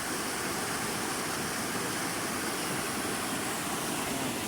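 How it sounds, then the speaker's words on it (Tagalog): A swollen river after Typhoon Umpong, a dense continuous broadband roar of rushing water, loud and unbroken throughout with no voices. "Nakakatakot na po ang ilog. Malaki na po siya."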